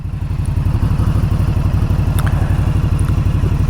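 An Indian Scout Bobber motorcycle idles close by, a loud, steady, rapid low-pitched thumping pulse with a faint mechanical clatter and nothing else over it.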